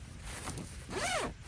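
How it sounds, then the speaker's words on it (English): A smooth YKK zipper on a Sea to Summit Ascent sleeping bag is pulled open a short way, one brief close zipping stroke rising and falling in pitch. "these YKK zippers, which I can already tell just from unzipping it a little bit"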